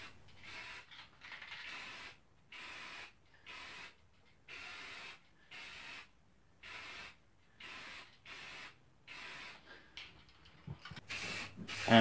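Spray can coating a wooden key holder black, about a dozen short even hissing bursts in a regular rhythm with brief silences between them, close up and with no voices.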